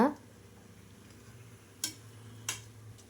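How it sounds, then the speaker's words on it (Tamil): Rice being stirred in oil in a pot for banana flower biryani, a faint clatter at the start followed by two sharp metallic scrapes of a spoon against the pot over a quiet background. "இப்போது இந்த அரிசியை வந்து இந்த எண்ணெயிலேயே நல்லா வந்து கிளறி விடும் பொழுது"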